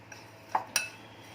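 A spoon mixes Weikfield rose falooda powder in a bowl, giving two or three sharp metallic clinks against the side over a quiet background.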